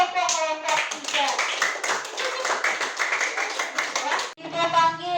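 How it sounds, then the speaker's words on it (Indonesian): Classroom of students clapping for a group, a burst of rapid many-handed clapping for several seconds between stretches of a speaking voice at start and end. "Oke, tepuk tangan untuk kelompok 3."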